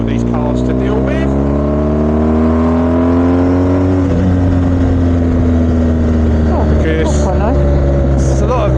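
Cars drive along a road in the Dolomites, engines droning loud and close with rising and falling pitch as vehicles pass and accelerate, one passing in the middle, with a voice faintly talking underneath.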